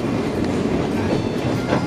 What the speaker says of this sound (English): The only downside about this ride is the loud squeal noise made by the train along the track while it's moving